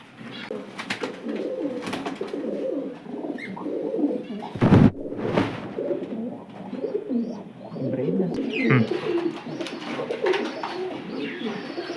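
Pigeons in a loft coo repeatedly in overlapping low, throaty phrases, among them an Anekal-line Kapregdar cock bird. A brief clatter of wings or movement breaks in partway through.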